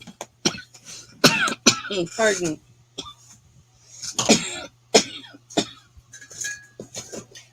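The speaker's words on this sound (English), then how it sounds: "I hadn't coughed all day until just now." Several close coughs and throat clearings come from a woman hosting a live jewelry auction indoors, with faint clinks of dishes or metal and a few brief spoken words between them.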